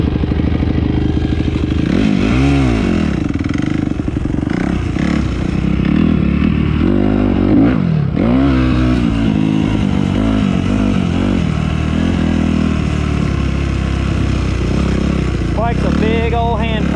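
A Yamaha YZ250F dirt bike engine revs loudly and continuously, pitch rising and falling as the throttle works, with rattling clatter, close and harsh throughout.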